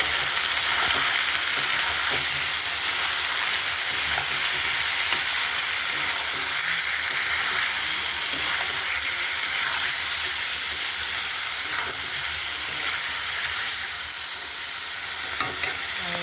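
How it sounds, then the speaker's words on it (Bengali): Spice paste frying with potato and onion for a fish curry gives a dense, steady sizzle, close and fairly loud, with occasional utensil taps and stirring noises throughout. "মশলাটা 2-3 মিনিট এরকম ভাজা হোক, আলুটা পেঁয়াজটা"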